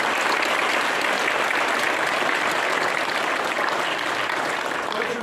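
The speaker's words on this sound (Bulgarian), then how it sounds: "Моля вашите аплодисменти за господин Лозарят." Theatre audience at a community play award ceremony giving a steady, dense round of applause, loud and continuous without pause for several seconds.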